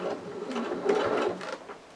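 A sewing machine runs steadily, stitching along the inside of a soft toy's second leg, with a brief shift in pace near the middle as the needle pivots at a seam.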